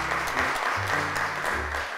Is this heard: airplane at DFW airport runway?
no